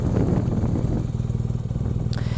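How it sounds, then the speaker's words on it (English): A BMW R nineT Racer with HP performance parts and an Akrapovic exhaust rumbles along on the road, its engine throbbing steadily and close, with a slight rise in revs. "this is the BMW R9T Racer with the HP spec, high performance parts spec"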